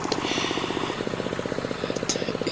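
A walk-behind tractor fitted with hiller ploughs chugs steadily nearby while cutting rows, its engine beating in a fast, even, pulsing rhythm throughout.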